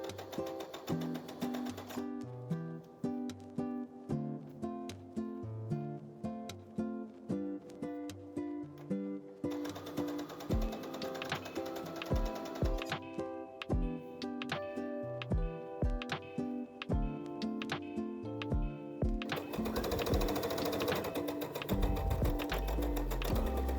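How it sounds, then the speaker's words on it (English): A sewing machine runs a French seam around a tiered skirt made from a vintage lace curtain, stitching in steady rapid bursts with short pauses between runs, close and fairly loud, with tonal background sound underneath. "turn the skirt over and sew all around once again with 1/2 centimeter seam allowance"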